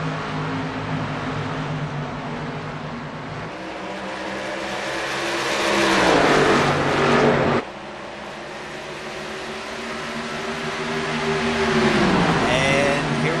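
Winston Cup stock cars race around the Dover track, their engines droning loudly and continuously with a rising and falling pitch as cars pass, while a commentator talks over the action.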